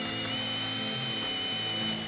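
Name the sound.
power drill drilling holes in truck frame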